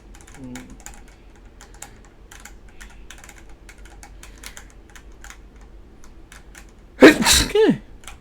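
A single sharp sneeze near the end, loud and close, breaking through steady light computer keyboard typing that runs through the whole stretch.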